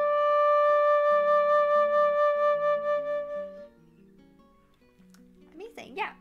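A flute plays a sustained middle D, a steady clear tone for nearly four seconds, then short fingered notes follow before a voice comes in briefly at the end.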